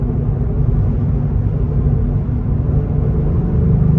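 Deep, steady engine rumble from inside a 2022 Cadillac CT4-V Blackwing with manual transmission, held at high revs with a constant low droning tone and no talk.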